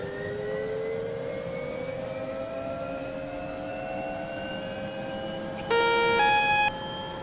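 A flight simulator game turbine engine whines as it tries to start, pitch slowly rising over a steady drone, with a brief electronic beep near the end.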